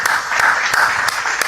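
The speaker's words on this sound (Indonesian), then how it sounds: "Bagus, tepuk tangan." Audience clapping during a religious talk, a dense, loud burst of applause from a crowd close by, steady for about a second and a half with a few sharper individual claps standing out.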